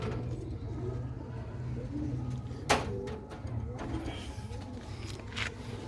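A slightly unwell female pigeon penned in a mesh cage coos in low, faint, steady rolling calls amid background hum, with a sharp tap partway through.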